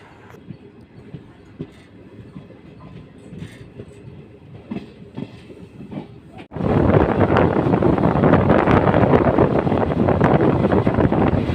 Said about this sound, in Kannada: ಎಕ್ಸಾಕ್ಟ್ಲಿ 8 ಗಂಟೆಗೆ ತಿಪ್ಟೂರಿಂದ ನಮ್ಮ ಟ್ರೈನ್ ಹೊರಟಿದೆ